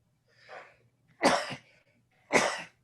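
At a committee meeting, a faint breathy intake is followed by two loud, sharp sneezes about a second apart, each a short explosive burst.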